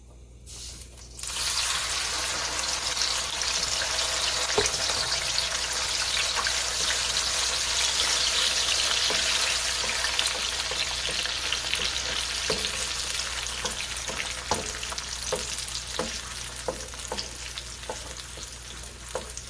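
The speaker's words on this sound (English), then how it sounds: "We're going to let this fry for just a couple of minutes." Steady sizzling of a tomato, onion and pepper mixture frying in a hot pan, a continuous crackling hiss with occasional pops and stirring clicks, close and fairly loud.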